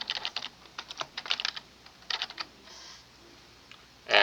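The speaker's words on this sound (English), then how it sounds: "In here we type the name for the character" Bursts of quick, close keystrokes clatter on a computer keyboard as a character name is entered, with short pauses between clusters and a louder clack at the end.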